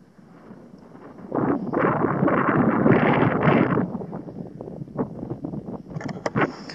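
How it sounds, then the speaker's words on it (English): Wind blowing across the open desert sand dunes of Sharqiya Wahiba Sands, Oman, a broad rushing gust that swells for a few seconds and then fades into lighter buffeting and soft pops, with no voices. "All there is the sound of the wind."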